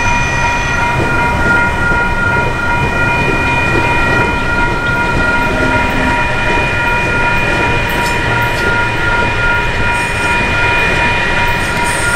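Passenger train pulling into Wondabyne station, a remote stop with no road access in Australia, with a steady loud rolling rumble and sustained tonal rail hum throughout, no talk.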